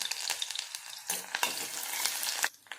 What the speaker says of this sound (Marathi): हा कांदा इथे आपल्याला थोडा गुलाबी कलरपर्यंत इथे परतून घ्यायचा आहे